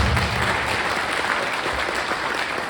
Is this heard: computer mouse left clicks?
no